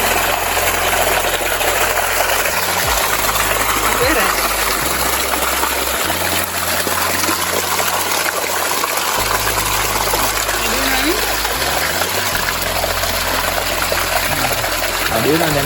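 Water runs and gurgles steadily as an aquarium fish tank drains, close and continuous beneath a low pump-like hum, with people talking over it.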